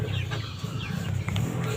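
Broiler chickens in a dirty coop cluck and murmur steadily, a low continuous flock sound close by with a few brighter calls rising above it.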